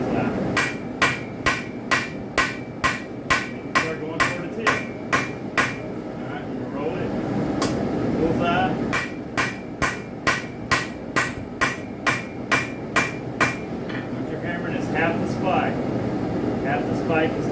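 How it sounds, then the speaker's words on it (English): A hammer strikes a railroad spike being flattened for knife forging, in two fast runs of about a dozen sharp, evenly spaced metallic blows each, close and loud over a steady background hum, with a pause between runs. "I'm going to start hammering on the bullseye first"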